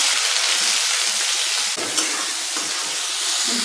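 Chopped onion and cumin frying in hot oil for a sev tomato curry, giving a loud, close, continuous sizzle and hiss with a brief stirring clatter and no talk.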